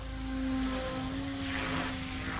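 A Mikado RC helicopter climbs in a punch out, a steady loud rotor and motor whine with a constant tonal hum and rising rushing air.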